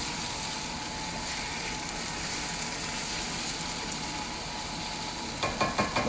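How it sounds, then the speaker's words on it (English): Chicken and stir-fry vegetables sizzle steadily over high heat in a cast iron wok, a continuous close frying hiss, with a few soft clinks of stirring near the end. "We want to maintain that sizzling sound that you're hearing."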